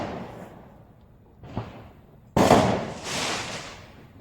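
Fourth of July fireworks go off outdoors, with a distant thump followed by a louder crackling burst and a second rumbling crackle that fade away.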